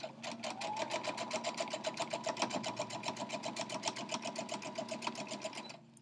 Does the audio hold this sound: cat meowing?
no